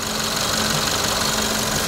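Steady, even hum of a Suzuki Swift engine idling, a smooth mechanical drone with faint rhythmic knock, continuous throughout.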